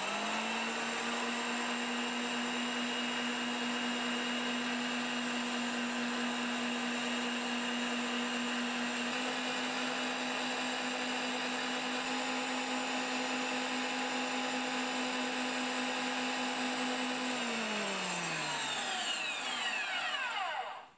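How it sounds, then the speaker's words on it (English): A 535 machine, used as a lathe, drives a hand threading die with a steady, even motor whine that runs for a long stretch, then winds down smoothly as the machine is switched off and its heavy flywheel coasts to a stop. "I'm going to use the 535 to drive the hand threader on."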